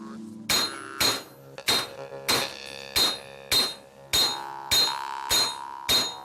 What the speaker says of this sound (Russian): Когда горячая обработка, тогда молотком сразу углы делаем.